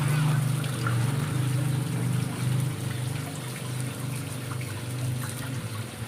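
Water is poured and splashed into the filter chamber of a fish pond, a steady, moderately quiet rushing trickle with a low hum underneath, continuous for several seconds without talk.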